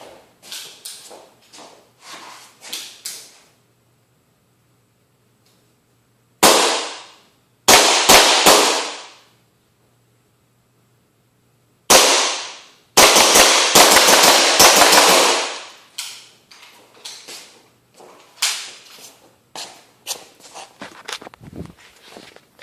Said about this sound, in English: I'm going to step back and shoot.